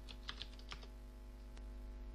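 Typing on a computer keyboard to enter a command at a Windows prompt: a few quick, faint key taps close together, then a single later tap over a low background hum, with no voices.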